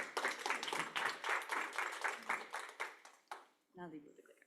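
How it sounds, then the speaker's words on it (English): A summit audience in New York gives a short round of applause, rhythmic claps tapering off before a single person starts speaking. "Everybody give Ross a round of applause."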